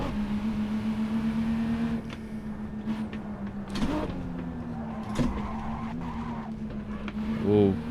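A car runs down a straight, its engine tone holding steady before hard braking brings creaks and a rising tire squeal near the end; voices can be heard over the driving.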